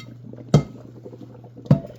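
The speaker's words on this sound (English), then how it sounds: "We're going to strain these and then we're going to add the noodles right into the meat mixture and the sauce." Two sharp metallic clanks about a second apart as a pot of cooked noodles is handled for straining in a home kitchen, over a steady low hum.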